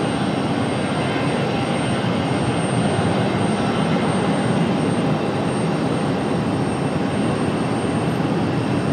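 A Delta Airbus A320 jet departing Raleigh-Durham International Airport produces a continuous, wide engine rumble and whine at steady volume, heard from a distance on the ground with no voices.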